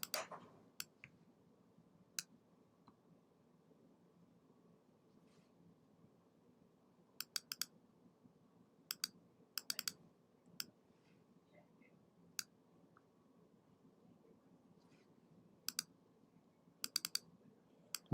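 Sharp, close computer mouse clicks scattered over a quiet room hum, some single and some in quick double or triple bursts, with long gaps between.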